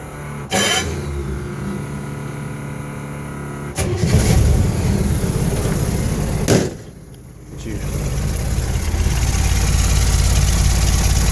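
A 1965 International Scout 80 with a bored-out engine from a Scout 2 starts and settles into a steady, close idle, with a brief dip in the rumble partway through before it resumes running.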